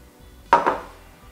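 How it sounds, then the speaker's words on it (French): A bowl of pâte brisée dough, with water just added to a well in the sandy flour mixture, gives one short, close clatter of a utensil against the bowl, followed by a soft fading scrape. "On va mélanger petit à petit"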